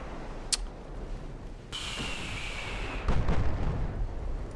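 Warship main guns firing in the naval game Ultimate Admiral: Dreadnoughts, a sharp blast early, then a roaring whistle and a heavier booming rumble near the end, loud and without speech.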